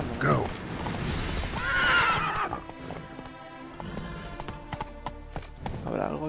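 A horse in The Witcher 3 gives a loud whinny, framed by the clip-clop of its hooves on the ground, with a second shorter neigh near the end and faint game sounds between.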